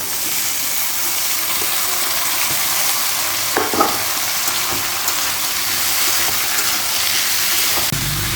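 Steady, loud frying sizzle from vegetables, taro first and then the rest, dropped into a hot pan of oil for a Bengali Malabar spinach ghonto, with a brief burst of stirring partway through and no talking.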